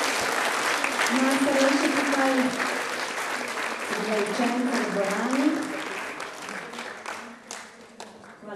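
Sustained applause for students fills a hall at a youth awards event, steady and fairly loud, with a voice speaking over it before it gradually thins out near the end.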